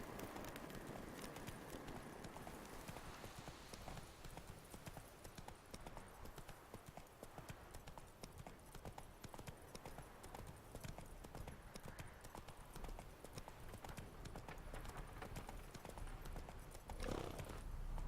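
Steady galloping horse hooves in The Witcher 3, a continuous rapid clip-clop rhythm throughout with a brief whinny near the end, loud and up front.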